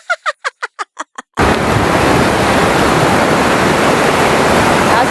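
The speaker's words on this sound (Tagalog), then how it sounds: "Pero sagdi lang nakadungog sad mo sa tingog sa sapa." A flowing stream at a forest camp, a steady dense rushing wash that starts abruptly after a short run of rhythmic tones and continues loud and unbroken, with no talk over it.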